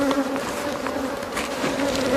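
Honeybees buzzing at a hive, a dense continuous hum of many wings close by, steady and fairly loud with no voices.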